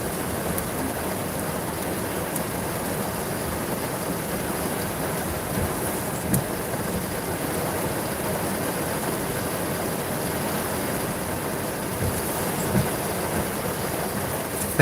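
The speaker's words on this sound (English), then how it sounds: "The rain is getting pretty loud" Heavy rain drums on a car parked outside a motor vehicle inspection station, a steady, dense roar heard from inside with a few faint knocks and no talk.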